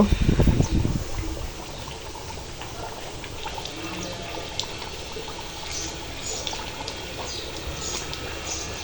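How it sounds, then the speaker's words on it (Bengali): Beef braising down in a pot for a Bengali beef curry, a steady soft bubbling and sizzle that runs throughout at moderate level, with a brief louder clatter at the very start. "আমি এখন কিন্তু মাংসটা সুন্দর মতো কষিয়ে নিচ্ছি"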